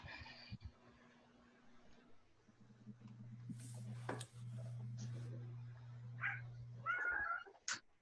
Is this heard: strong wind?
no